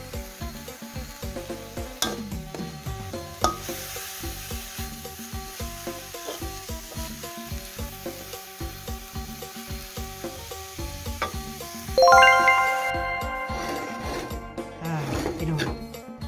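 Dried frog and herbs being dry-roasted for chili paste, a steady close scraping and sizzling stir with rhythmic rubbing strokes against the pan, growing brighter and crisper toward the end, no talk.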